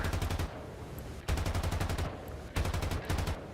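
Machine guns on a tank turret in War Thunder, firing in three loud, close bursts of rapid rattling shots separated by short pauses.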